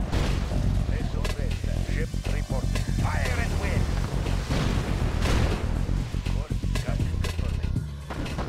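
Artillery fire and explosions in the strategy game Red Alert 2, a Soviet campaign battle with repeated booming shots and blasts packed together under steady game voice lines and other battlefield noise.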